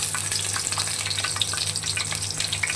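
Momos wrapped in cabbage leaves pan-frying in hot oil, a dense continuous crackling sizzle with scattered pops, close and steady throughout.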